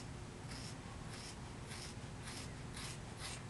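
Repeated short crisp snips of scissors cutting through thick hair, about six cuts in steady rhythm, close up over a constant background hum.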